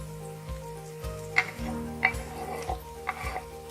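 Green chili frying in oil in a pan over a medium-low flame while making chana dal tadka, a steady soft sizzle broken by several light spatula stirs and scrapes, close by with no talking.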